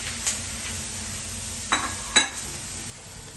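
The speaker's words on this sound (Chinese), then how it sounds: "蒜苔倒入锅中，翻炒至断生，然后再把狒狒倒入锅中。" Garlic scapes and pork lung stir-fried in a wok with dried chilies, scallion, ginger and garlic: a steady oil sizzle with a few sharp scraping tosses from the spatula.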